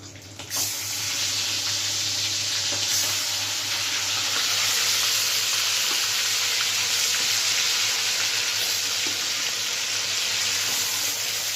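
Pangas fish pieces fry in hot oil, giving a dense, steady hiss that starts abruptly and holds loud and close throughout with no talking.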